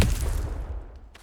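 A Confringo blasting spell cast in Hogwarts Legacy on PS5, a single loud explosive burst with rumbling low end that decays over about a second, followed by faint crackling debris.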